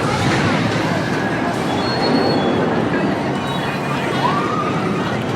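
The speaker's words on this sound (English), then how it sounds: "It's an empty train." A roller coaster train at Alton Towers rolling along the track, a loud continuous rumble with a brief high wheel squeal near the end.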